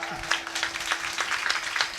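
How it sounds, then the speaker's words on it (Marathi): An audience claps together at a kirtan in Sakat, Barshi, producing a dense, even patter of hands in a short burst. A voice is heard briefly at the start. "तुमच्याबद्दल एकदा तुम्हीच टाळ्या वाजवा"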